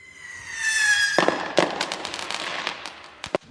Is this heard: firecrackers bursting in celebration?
yes